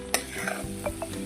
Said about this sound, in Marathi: अजून थोडं बेसन पीठ यात आपण टाकू आणि पुन्हा एकदा हलवून घेऊ